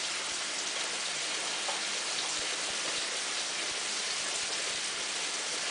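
Heavy whipping cream pours into melted butter in a pan for a chicken fettuccine Alfredo sauce, giving a steady, continuous hissing, splashing rush that stays even and fairly loud throughout, with no talking.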